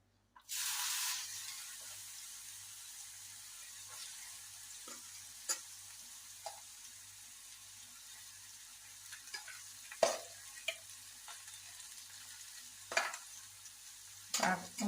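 After a sudden burst of hiss, carrot fries with green chilli and onion in a pan, settling into a quiet sizzle broken by occasional spoon scrapes and taps near the end.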